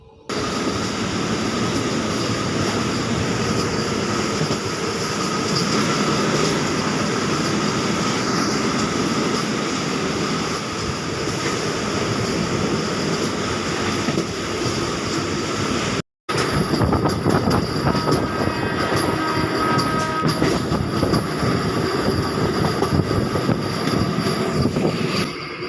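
The Sirpur Town train pulls away from Sultanabad station, a loud, continuous rumble and rattle of rolling carriages heard from on board, steady throughout apart from one brief dropout, with clacking growing denser in the final stretch.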